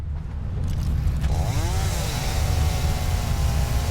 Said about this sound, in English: Let's get our chainsaw out.